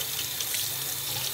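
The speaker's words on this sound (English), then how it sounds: "I'm gonna run the cold water and show you guys, and pour all the hot out" Cold water runs steadily from a household tap into a sink, a continuous close hiss and splatter with no voices.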